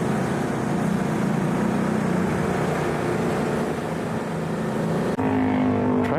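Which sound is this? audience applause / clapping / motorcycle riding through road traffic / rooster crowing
motorcycle riding through road traffic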